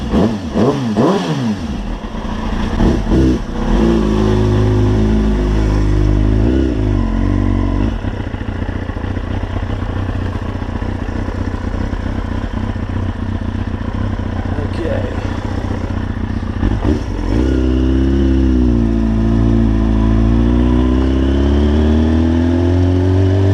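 A 2003 Kawasaki ZX6R motorcycle with 14,000 miles is ridden, its engine revving up and down loudly and continuously up close, with rising and falling pitch sweeps as it accelerates through gears.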